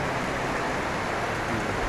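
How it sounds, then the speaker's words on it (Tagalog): Heavy rain falling during stormy weather, a steady, dense hiss that continues without a break through the short stretch, moderately loud and close, with no voices. "Napakalakas pa rin ng ulan."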